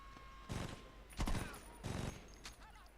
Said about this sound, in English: you just gotta keep shooting until they pull over